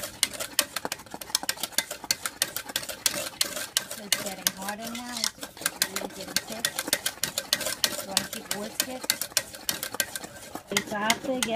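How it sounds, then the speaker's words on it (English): Custard mix is whisked into boiling milk in a pot. A fast, continuous clatter of whisk strokes runs throughout, with a voice faintly heard partway through. "I'm gonna go ahead and add my custard and give it a whisk"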